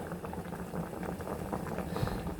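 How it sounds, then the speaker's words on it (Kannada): Amaranth leaf curry, South Indian style, bubbles at a steady rolling boil in a pot, a continuous dense simmering gurgle with small pops, close and fairly loud throughout. "ಚೆನ್ನಾಗಿ ಕುದಿ ಬರ್ತಾಯಿದೆ"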